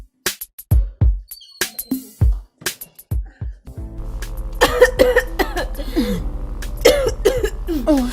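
Several sharp coughs, close and loud, come in quick separate bursts in a home setting. Voices and background sound then rise and continue under them.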